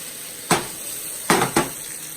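Sausage, shrimp, spinach and mixed vegetables being turned in a pot, giving three short scraping clatters of a utensil against the pot over a faint background hiss.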